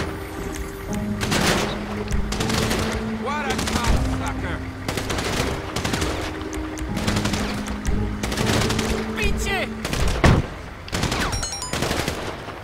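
Repeated automatic gunfire rattles in short bursts while enemies are shot in a GTA 5 zombie mod, the volleys spread across the scene over steady background game sound and music.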